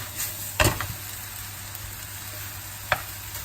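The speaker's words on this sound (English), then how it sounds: "I'm just going to simmer that for around 5 to 6 minutes" Beef and vegetables sizzle steadily in a pan, with a couple of brief scraping stirs breaking through the soft, continuous frying hiss.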